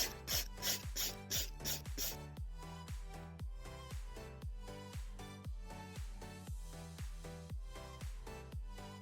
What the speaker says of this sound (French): on peut un tout petit peu limer comme ça. Et on va revenir limer.